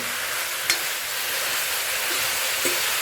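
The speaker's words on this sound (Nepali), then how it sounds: "नुन अब म यसलाई राम्रोसँग फ्राई हुने गरी" Jackfruit curry sizzles steadily in a pan at close range, a continuous hiss of frying with a couple of brief scraping knocks as it is stirred, and no voices.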